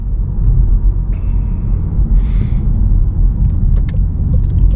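A VW Golf R Mk7.5 pulls away at night with a deep, loud rumbling engine note that builds steadily, heard close from inside, with a short hiss and faint clicks over the drone.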